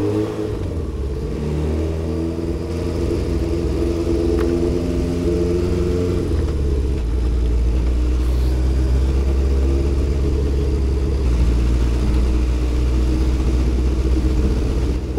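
A rebuilt Honda CB750 cafe racer motorcycle engine while riding: a loud, close rumble that rises and falls as the throttle opens from low revs, then settles into a steady heavy drone with wind noise.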